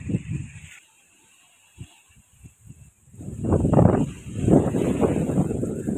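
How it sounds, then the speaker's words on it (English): Wind blowing on an elevated point by the ocean in Mombasa Old Town at night, gusting in uneven buffeting bursts against the microphone with a brief lull in between, loud and close. "I think maybe you can hear how the wind is blowing. This is the breeze, man."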